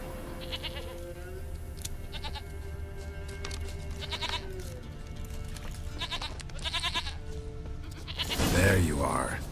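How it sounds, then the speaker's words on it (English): Goat bleats in The Witcher 3, repeated short calls spaced through the scene over game ambience and music, with a louder burst of noise near the end. "Here, goat."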